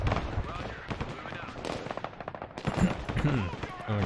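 Gunfire in the Broken Arrow multiplayer war game: rapid sharp shot bursts mixed with game effects, fairly loud, with people talking over it.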